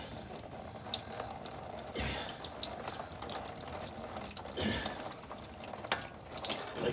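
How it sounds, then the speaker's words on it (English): Engine oil from the filter of a 6.7L diesel truck runs and trickles into a drain pan, an irregular liquid pour with small splashes and drips, close by and without speech. "the oil is going to obviously want to run down. It's going to run down around the outside of this filter."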